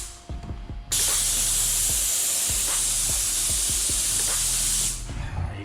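A steady hiss of a paint spray gun spraying a baseboard runs for about four seconds, loud and close, with faint knocks and clatter underneath.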